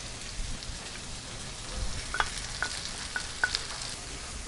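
Coconut being sautéed in a pan, a steady soft frying hiss with a few sharp ticks and spatula scrapes that come closer together toward the end.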